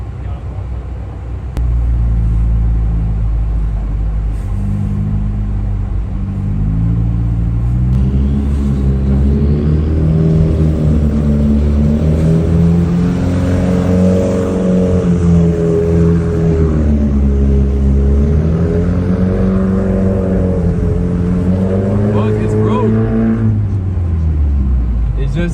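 A car drifts on a slushy, snowy road, its engine droning loudly and revving up and down in long sweeps, with voices heard at times.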